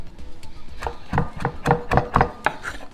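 Knife chopping thyme leaves for a bacon-wrapped stuffed chicken breast, a run of about eight crisp, fairly close blade strikes on a board at an uneven, quickening pace.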